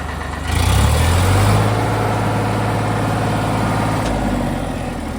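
A Sonalika 740 tractor engine idles close by with a loud, steady low rumble, rising briefly at the start before holding an even chug for several seconds, no voices heard.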